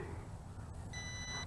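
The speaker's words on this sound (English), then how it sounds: "Not sure what all that beeping is for." An X2 Pro3 GPS smart drone with a three-axis gimbal emits faint, steady electronic beeps, thin high tones sounding from partway through over a low background hum.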